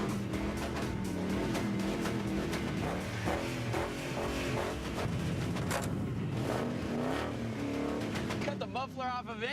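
A loud, raw car engine with its muffler cut off roars and revs continuously with a harsh, rumbling exhaust, close by, with no pauses.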